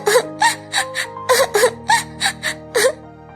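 A young girl cries loudly and close up in a rapid series of about nine rhythmic sobbing wails, each a short gasping burst, with no talking.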